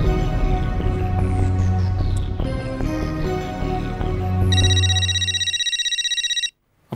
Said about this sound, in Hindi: अब्दुल का फोन